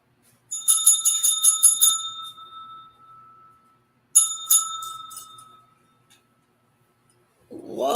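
A bell rings in two bursts of rapid repeated dings, each trailing off into a lingering ring, loud and close with silence between and no talk.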